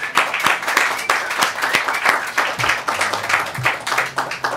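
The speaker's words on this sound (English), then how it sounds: "a big round of applause to Jo Rose and Fernando Uribe" Audience applause at a New York Young Republican Club event, many hands clapping at close range in a lively, uneven rhythm with some louder individual claps, no talking.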